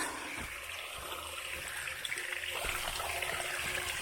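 Water from a mountain spring on Mount Tambora runs in a steady, moderately loud trickle and gush, continuous and close, with no talking.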